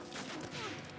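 Rapid burst of gunfire in the World War II shooter game Medal of Honor Frontline, a dense fusillade filling the whole moment at steady loudness with no talk.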